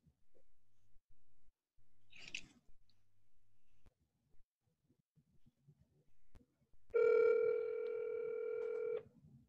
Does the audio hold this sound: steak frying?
no